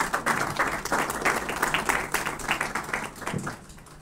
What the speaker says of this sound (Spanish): Por favor, brindemos un fuerte aplauso aquí a nuestro autor.